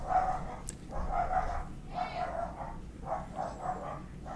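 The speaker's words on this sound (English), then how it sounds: "I'm going to have a lot of dog noise on the track" Dog barking in short repeated bursts, about five or six barks spread evenly, fairly close and moderately loud, with no talking over them.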